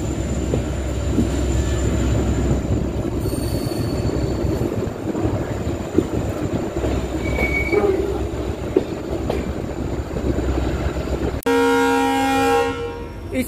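The Chandigarh Express train at New Tinsukia railway station rumbles loudly and steadily on the rails with faint wheel squeal, then a long horn sounds near the end.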